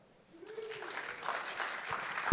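A conference audience breaks into applause, rising from silence into a moderate spread of clapping for about two seconds, with a brief vocal sound near the start.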